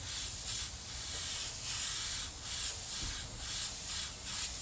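An airbrush sprays paint onto a tiki head outdoors in a yard, giving a steady, close hiss that swells and eases in soft rhythmic passes, with no talk.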